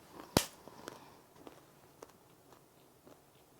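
A loud crunchy bite of a Korean traditional fried confection (hangwa) with whole nuts inside, followed by soft, irregular chewing sounds, close up and quiet, with no talking.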